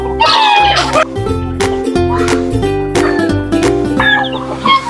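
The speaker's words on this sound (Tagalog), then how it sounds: "Saka yung ibang inahin natin na manok." Native hens cluck repeatedly at close range on a small farm, with a rooster-like call rising among the busy, overlapping fowl chatter.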